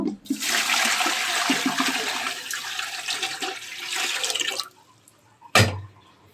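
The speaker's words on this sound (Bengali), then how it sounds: "আর পানি দেবো প্রায় ছয় কাপের মতো" Water pours steadily into a pot for sugar syrup, a loud continuous gush lasting about four seconds before stopping, followed by a single sharp clank.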